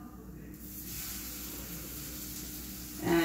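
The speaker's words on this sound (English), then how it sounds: "All right, so we've got our little patty ready to go in the pan." A pupusa patty starting to cook in a hot pan, a steady close sizzling hiss that swells after the first half second, with a brief louder clatter near the end.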